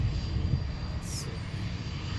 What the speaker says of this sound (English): Let's find out where this guy's going, shall we? That corporate jet.